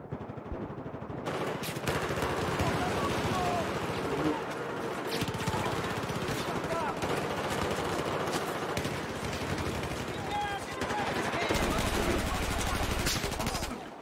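M16A4 rifle fire in Battlefield 4 crackles in rapid bursts and near-continuous volleys, dense and loud over a brief quiet start, with scattered distant shots and game effects layered beneath.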